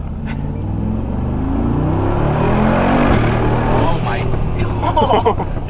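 Turbocharged car engine revving hard in Sport Plus mode, a loud, rising drone heard from inside the cabin, with people exclaiming over it near the end.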